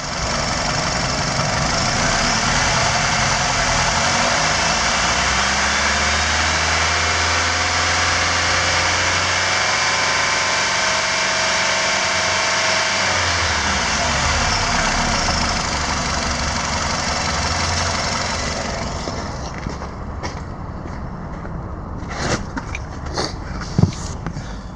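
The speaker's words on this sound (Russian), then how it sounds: "Работа на высоких оборотах." Nissan X-Trail 2008 with a 2.5-litre 16-valve QR25DE engine running at high revs, a loud steady drone that rises and holds, then drops back with a few clicks and knocks near the end.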